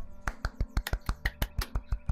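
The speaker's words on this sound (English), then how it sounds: "Soft clap." Soft hand claps repeat in a steady, even rhythm, about a dozen light, crisp close-up hits spaced roughly evenly apart during a casual game of Golf With Your Friends, with no voices.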